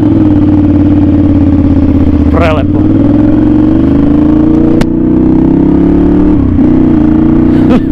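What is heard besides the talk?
Ducati Monster 696 motorcycle engine while riding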